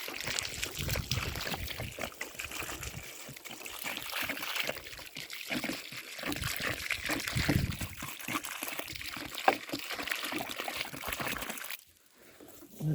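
Water poured into a planting hole dug for a plum tree, a steady soft trickle and splash running for most of the clip before stopping abruptly near the end, quiet and outdoors.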